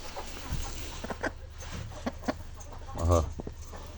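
Broody Gurk hens cluck in scattered short bursts, with one louder, throaty cluck near the end; quiet background otherwise.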